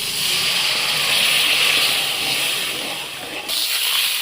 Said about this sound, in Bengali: ফ্রাই হয়ে গেছে এবার আমি জল দিয়ে দিচ্ছি